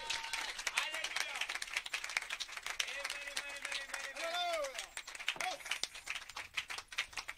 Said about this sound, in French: Tendez-lui une main d'acclamation.